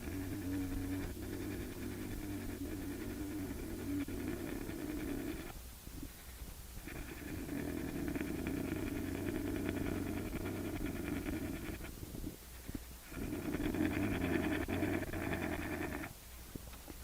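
A voice imitates a bear's warning call to another bear, a low continuous buzzing drone like a beehive, held in long stretches with short breathing pauses between them, close and fairly quiet.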